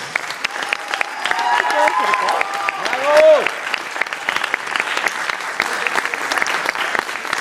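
Applause from the audience at a student and teacher vocal gala by Stage Company, a steady wash of clapping throughout with voices and a few sung or called-out tones rising over it near the start.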